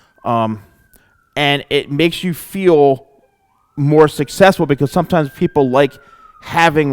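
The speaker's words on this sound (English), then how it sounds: "I apologize if you hear a siren in the background." A police siren wails faintly in the background during a haircut discussion, a thin steady tone running beneath continuous close talk from a man.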